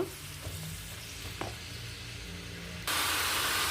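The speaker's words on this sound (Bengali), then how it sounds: "আগে থেকে কেটে ধুয়ে রাখা আলুর কুচিগুলো দিয়ে দিচ্ছি এখন নেড়েছে ভাজি করে নেব" Chopped potato pieces sizzle and fry in a pan while being stirred, a steady close hiss with scraping stir strokes, swelling into a louder, brighter sizzle near the end.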